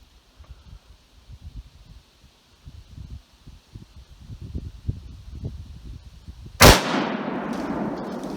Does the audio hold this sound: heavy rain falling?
no